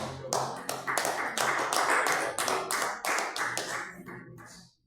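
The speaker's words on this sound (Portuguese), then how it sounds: "recebemos palmas para Deus" A congregation at a Brazilian church service claps hands together in a brisk, regular rhythm, each beat crisp and close, continuing steadily before stopping abruptly near the end.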